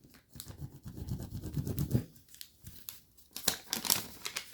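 Paper is creased and folded by hand for an origami flare, giving close, quiet crinkling and rustling with a few sharper crisp snaps toward the end.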